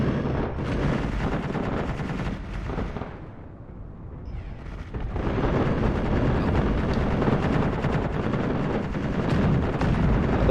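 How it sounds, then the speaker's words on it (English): Gun fires repeatedly in a video game, sustained rapid bursts and booms close and loud, briefly dropping away before resuming, with no talk. "Wherever that gun is, it is in exactly the right spot to keep firing at something."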